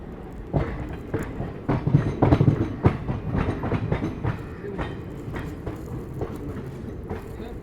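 A special train departing Sabzi Mandi station on a Srinagar to Delhi journey, wheels clacking over rail joints in a steady rhythm with loud bursts early, heard from inside the carriage.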